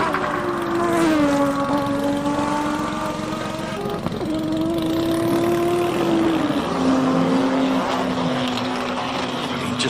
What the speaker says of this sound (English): Reggie Roots takes that beautiful big blue and black Nissan of his to the line